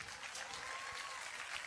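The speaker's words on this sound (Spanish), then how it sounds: "El aplauso lo merece el señor." Steady applause from an audience, a continuous wash of clapping heard fairly quietly throughout, with faint voices in the background.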